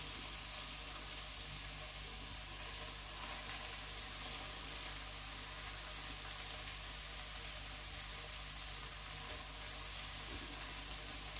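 Squirrel meat dusted in flour browns in a pan with a faint, steady sizzle that holds evenly throughout, low and constant under a light electrical hum.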